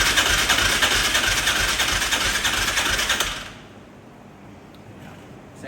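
A Yamaha Raptor 660R ATV engine cranks steadily with the throttle open during a compression test, a loud continuous whirring churn that cuts off abruptly after about three seconds, leaving quiet background.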